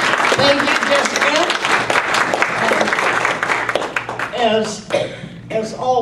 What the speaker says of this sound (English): I think we can clap louder than that.